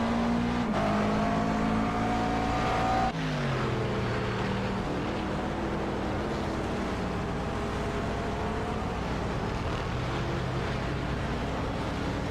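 GT3 Corvette race car in a sim race at Road America, its engine drone rising in pitch, then dropping sharply as it passes the trackside camera, followed by a steady fading engine hum with other cars in the background.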